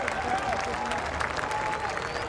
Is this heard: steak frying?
no